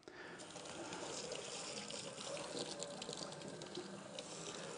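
Tap water runs steadily into a kitchen sink during rinsing, a soft continuous splash and gush heard alone at close range for several seconds.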